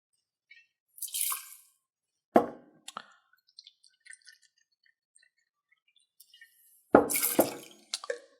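Gin poured into a measure for a cocktail: two short splashing pours near 1 and 7 seconds, with small drips and clinks in between, close and fairly quiet, no talking.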